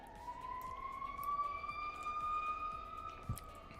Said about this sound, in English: can you guys hear the sirens going on outside?